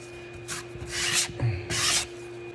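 Drywall being sanded by hand, three bursts of bright abrasive scratching against the wall surface, each about half a second long and close to the microphone, with brief pauses in between.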